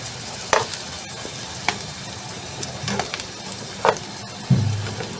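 Potatoes and carrots fry in oil in a pan, a steady sizzle with several sharp scrapes of stirring at intervals, close and moderately loud.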